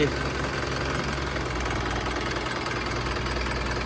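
A 4JJ diesel engine in an old Japanese Isuzu NMR130 truck idles steadily, a loud low knocking rumble with constant vibration throughout.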